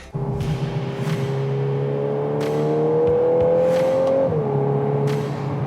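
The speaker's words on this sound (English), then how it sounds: "Although you do get quad exhaust system, meaning 2 pipes on each side, this doesn't sound that good." A Mk8 Golf R engine with quad exhaust revs steadily upward, its deep exhaust note rising in pitch before dropping back, with brief sharp clicks scattered on top.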